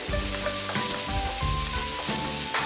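Shallots and chili slices dropped into hot oil in a wok, giving a loud, dense, continuous sizzle with faint clinks, close up, with no talking.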